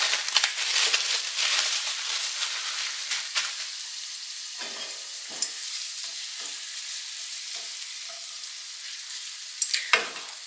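Refrigerated bacon sizzles and crackles in a pot, rendering grease for soup. The frying hiss stays steady and near throughout, with a few stirring scrapes, and nobody speaks.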